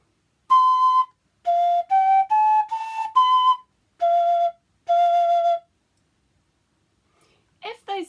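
Short, clear notes from a toot, a simple wind instrument, played one at a time with brief gaps and a slow, stepwise melody, close and alone.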